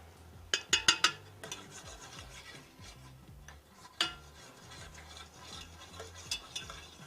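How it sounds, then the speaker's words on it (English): Garlic being stirred into creamy tomato soup in a pot, opening with a quick run of sharp spoon clinks against the rim, then softer scraping stirs and a few scattered taps. "let's go ahead and add in this garlic"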